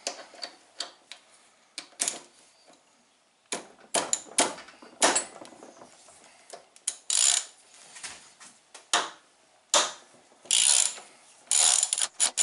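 A ratchet wrench loosening a 12 mm bolt on a Chinese scooter engine being removed, crisp rapid clicking in repeated bursts with short pauses between strokes, close and clear with no talking.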